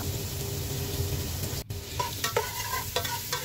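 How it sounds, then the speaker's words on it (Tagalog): Ginger and onion sautéing in a hot pan for papaitan, with a steady sizzle throughout, briefly cut off, then returning alongside clinks and scrapes of a utensil stirring. "Maggigisa na po tayo ng ating mga sangkap. Ilagay na po natin yung luya at sibuyas."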